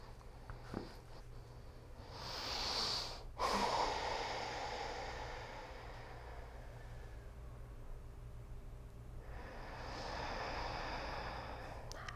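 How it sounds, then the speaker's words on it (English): Slow, deep inhales and exhales during prenatal yoga in wide-legged child's pose, soft and close over a faint steady hum, with a long breath swelling around the third second and another late in the clip. "And just relax and take a couple of deep breaths. Inhale and exhale."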